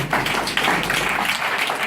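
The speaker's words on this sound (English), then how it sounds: "First you have to clap yourself for giving us a big number." Audience applause fills a school speech event, a steady wash of many hands clapping at close range with no break for the whole stretch.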